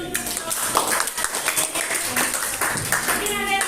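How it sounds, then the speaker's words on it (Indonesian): A class claps together in a burst of applause, with scattered sharp hand claps and some voices mixed in. "Oke, tepuk tangan dulu."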